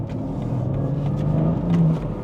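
A powerful rear-wheel-drive car accelerates hard in second gear, its engine droning and rising steadily in pitch as revs climb, heard from inside with a continuous rumbling tone and no talk.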